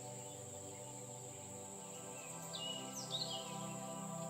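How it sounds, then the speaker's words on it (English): Forest ambience with a steady, loud chorus of crickets and insects, joined by a few high bird chirps and calls near the end. The layers are dense and continuous, with no talking. "you can hear all kinds of sounds coming from the forest."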